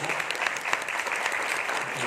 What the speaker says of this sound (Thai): ปรบมือกับฝ่ายทีมกำจัดด้วยนะ